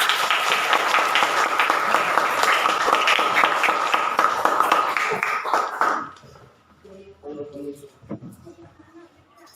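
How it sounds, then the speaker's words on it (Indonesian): Students applaud in a classroom, a steady burst of clapping lasting about six seconds before it cuts off, followed by quieter scattered sounds and faint voices. "kita tepuk tangan dulu untuk keberanian kalian"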